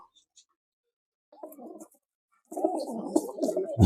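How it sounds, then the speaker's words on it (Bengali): A pure silver pigeon coos softly in short, quiet bursts, a brief murmur then a longer throaty run after a pause, close by in an otherwise still space. "এটা অরিজিনাল পিওর সিলভার কবুতর"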